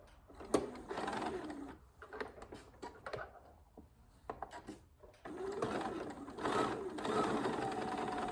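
A sewing machine stitches a zipper pouch in uneven bursts, with a short pause and scattered clicks midway before a longer steady run of stitching, close by.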